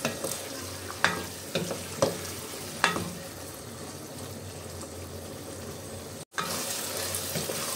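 Eggplant and broad bean mixture, a temple prasadam dish, stirred in a pan: several scraping strokes early on over a continuous soft sizzle, then steady low frying with a brief dropout near the end.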